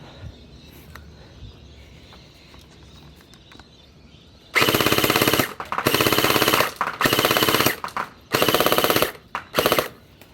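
A JM MP5 V2 gel blaster submachine gun firing full auto, starting after a quiet stretch with five loud rapid bursts of rattling shots separated by short pauses.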